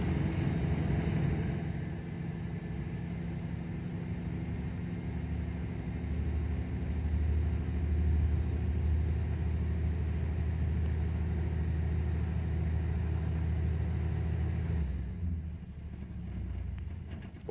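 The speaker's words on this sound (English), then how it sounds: "Fires right up. Fast idle's coming up." A 1974 Dodge Dart V8 engine running at fast idle after sitting for five years, a steady close low rumble with a faint rise in pitch, then the sound drops off sharply near the end.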